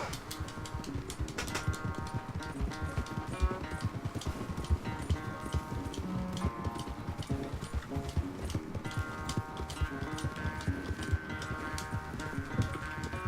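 A horse gallops hard during a race in Red Dead Redemption 2, its hooves pounding in a fast, continuous rhythm beneath game music, close and steady throughout.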